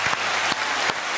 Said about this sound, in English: You want to hit the applause for Yelena for this one?